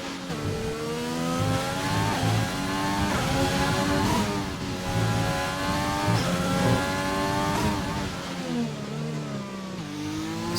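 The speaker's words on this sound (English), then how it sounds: "Here comes the McLaren of ABR Evans." A McLaren race car at an ABR Tier 1 Australia season-opener race sounds as a loud, high-revving engine, rising and falling through gear changes as it drives past close by, and no voice is heard.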